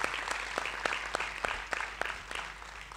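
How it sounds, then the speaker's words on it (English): An indoor audience at a panel discussion gives a round of applause, with sparse, distinct claps rising and thinning out over a few seconds. "may I request to give Taraji one more round of applause"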